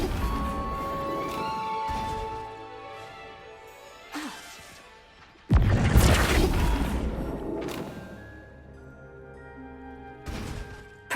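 A Flipendo knockback spell cast in Hogwarts Legacy strikes with a sudden loud booming burst that rumbles away for several seconds, with smaller thuds before and after, over steady background music.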